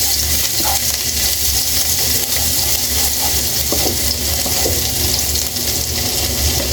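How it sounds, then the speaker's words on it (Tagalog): Crab pieces and ingredients sautéing in a pan for ginataang alimasag, giving a steady, continuous sizzle with faint stirring and scraping underneath, close and even throughout. "Gisahin na natin to."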